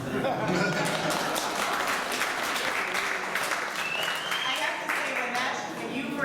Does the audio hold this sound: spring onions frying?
no